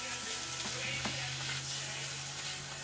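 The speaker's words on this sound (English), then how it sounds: "The shrimp is cooking." Shrimp and spinach sizzle steadily in a pan, a continuous close frying hiss with a few soft stirring clicks and a low hum underneath.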